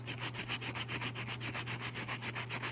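A polymer clay piece is rubbed flat against a sanding sheet, making close, steady back-and-forth scratchy strokes in an even rhythm throughout, with no talking.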